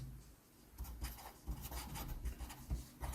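A pen scratching across paper while working a math exam solution, soft continuous close-up scribbling strokes with small taps, fairly quiet and with no talking.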